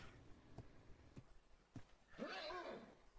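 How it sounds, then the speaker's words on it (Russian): A horse in the video game Ark Survival Evolved gives a short whinny, fairly faint and distant, after three soft thuds spaced out across a quiet background. "О, лошадка, пони."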